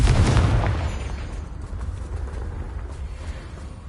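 A Confringo blasting spell explodes in Hogwarts Legacy with a loud, deep boom at the start that rolls off into a long rumbling, crackling tail, with no voices.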